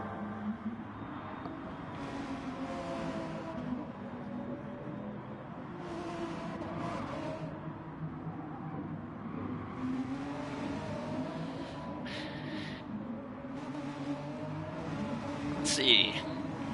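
Renault race cars on the Spain circuit in the Gran Turismo Sport video game, engines droning and revving steadily with a brief tire squeal, under ongoing commentary talk.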